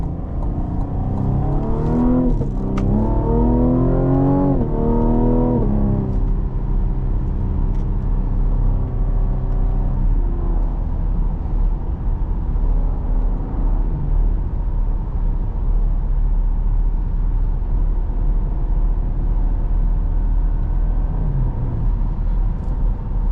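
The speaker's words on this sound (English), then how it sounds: "it's a good sounding V6" A 2021 Cadillac CT5 3.0L V6 engine revs hard with rising pitch sweeps for several seconds, then settles into a steady, continuous rumble at idle.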